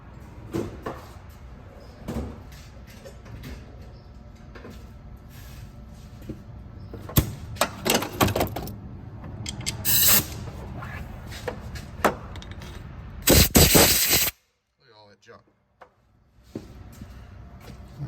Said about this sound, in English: Give it a little air and blow it out.